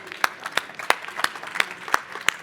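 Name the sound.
audience applause after a conference talk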